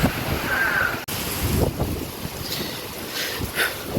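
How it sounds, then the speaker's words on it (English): Strong wind from Hurricane Ian roars across the microphone in continuous buffeting gusts, with a brief dropout partway through and rattling debris and blowing sounds underneath. "Well, the wind has definitely picked up."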